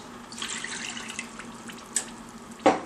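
Water runs and splashes into a pot holding apple pie filling ingredients in a steady stream, with a few sharper clinks and a louder splash near the end.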